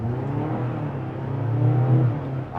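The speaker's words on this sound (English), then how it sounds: "you get a very loud kind of a, you know, engine noise" Engine of a 2024 Mazda CX-90 PHEV accelerating, a loud steady droning rumble that rises slightly in pitch, heard from inside the cabin with no talking.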